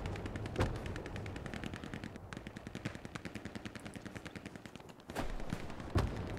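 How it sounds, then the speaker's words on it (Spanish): Rapid machine-gun fire from the World War II shooter Hell Let Loose, a long steady burst of evenly spaced shots at mid distance, broken by a few louder single cracks and a heavier blast near the end. "por aquí yo estoy oyendo tiros"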